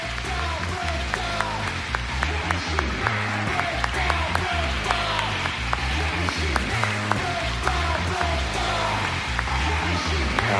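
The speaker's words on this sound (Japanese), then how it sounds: "大きな拍手を持ってお迎えください。" An audience at a live festival event for a JoJo anime concert applauds steadily for ten seconds, a dense, loud wash of clapping with scattered sharper claps and cheers throughout.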